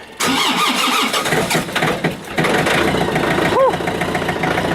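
A tractor engine that has not been preheated cranks and catches, then settles into a loud, steady close-up running rumble that continues without a break.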